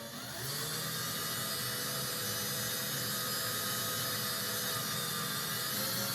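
A drill bores through an acoustic guitar body to fit a pickup, giving a continuous loud whirring grind that starts abruptly and holds steady without pause.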